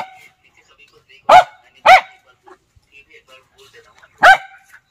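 A dog in an Assam village barks three times, with two sharp barks close together and a third after a pause, loud and near against otherwise quiet surroundings.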